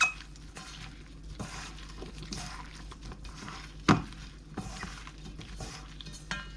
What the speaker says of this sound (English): Coat the shrimp with the cornstarch.